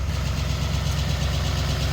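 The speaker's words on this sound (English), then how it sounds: "I do have my truck running right now to charge the batteries" A pickup truck engine idles close by, running to charge batteries, with a loud, steady low rumble and even pulsing throughout and no voices.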